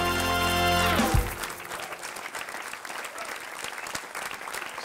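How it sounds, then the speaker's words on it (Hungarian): A theater audience at a Budapest stand-up comedy show bursts into loud, sustained applause as a comedian is welcomed to the stage, a dense crowd clapping that follows a brief musical sting and continues steadily. "Fogadják nagy tapssal a színpadon Kovács András Péter."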